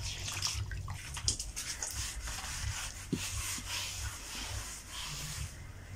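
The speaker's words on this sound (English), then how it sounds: "So I'm just going to apply some water on it." Water is wiped onto old wallpaper on a house wall to soak it before peeling, a soft, close rubbing and swishing with faint wet scrapes and a couple of light knocks, no voices.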